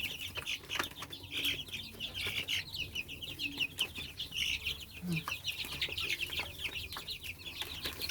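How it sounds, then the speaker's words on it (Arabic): A flock of turkeys and chickens on a bird farm clucks and chatters continuously, overlapping calls close by with a busy, restless rhythm and occasional louder squawks. "يلا اما نروح نشوف الفراخ الهندي، اديكوا الفراخ"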